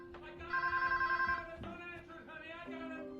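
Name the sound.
telephone ringing in The Incredibles film scene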